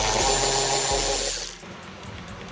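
A power tool backs 7mm bolts out of a 2017-or-later Ford Raptor during a fiberglass panel install, giving a loud, close whirring burst of about a second and a half that cuts off, leaving quieter shop noise.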